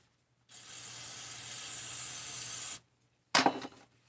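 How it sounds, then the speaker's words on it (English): Brake cleaner is sprayed onto engine parts of a 350 bottom end, first as a steady hissing aerosol burst of about two seconds, then as a short, sharper spurt after a pause. "Little brake cleaner on all the surfaces here"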